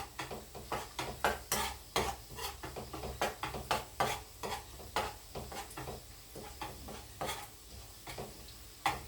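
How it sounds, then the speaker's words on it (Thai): Garlic frying in a pan for a bitter melon, egg and minced pork dish, with rhythmic scraping and clinking stir strokes over a soft sizzle. "จะเจียวกระเทียมก่อน"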